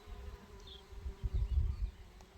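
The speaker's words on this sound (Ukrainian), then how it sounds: "Скільки тут бджілок, вони всі працюють, збирають пилок." Bees work over flowers in a village, collecting pollen, with a soft low buzzing that swells briefly near the middle over a quiet background.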